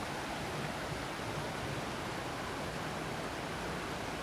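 Tank Creek, a wild trout stream in a nature preserve, flows in a steady, even rush of water that fills the whole stretch with close, constant noise and no voices.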